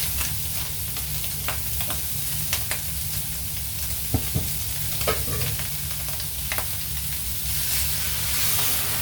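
Mung beans for a Filipino monggo dish are tipped into a pot and stirred, giving a steady sizzle and hiss with scattered scraping clicks of the spoon, moderately quiet and with no talking.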